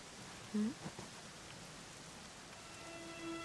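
Steady soft rain patters in Dragon Quest 11 S, a faint even hiss throughout with a couple of brief tonal blips early on and a thin sustained tone near the end.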